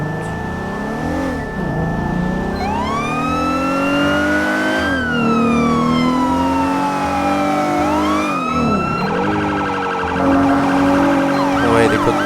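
A police car siren on a code 3 emergency run during a Los Angeles County Sheriff's manhunt, loud and close, wailing in long rising and falling sweeps before switching to a fast yelp, with no talk over it.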